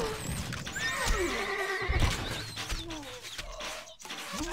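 Horses neighing and galloping in the strategy game Stronghold Crusader, with a loud whinny over rapid hoof clip-clops, bird calls and cooing mixed in, continuous and close.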